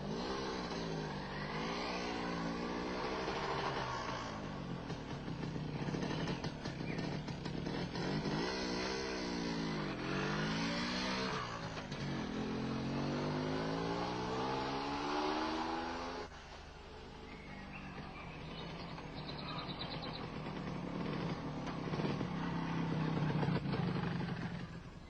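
An MZ 251 ETZ two-stroke motorcycle on a roughly five-kilometre test ride, its engine droning continuously and rising and falling through repeated revs and gear changes, steady and fairly close.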